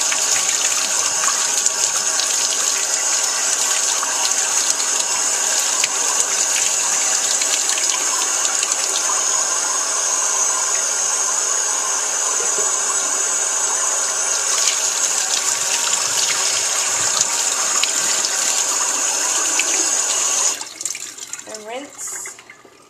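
Running water rinses sprouts grown at home, a steady loud gush like a tap or jar being flushed that goes on for about twenty seconds before stopping abruptly.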